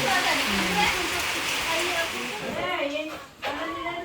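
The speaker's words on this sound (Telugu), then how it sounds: "జర వర్షం తగ్గింది అనుకుంటే మళ్ళీ మళ్ళీ స్టార్ట్ అయింది" Steady rain hisses down at an outdoor family function, a broad continuous wash of sound with people talking through it.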